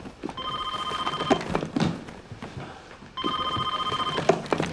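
A telephone rings twice in a television drama scene, each bright electronic ring lasting about a second and separated by a pause, with scuffling background noise around it.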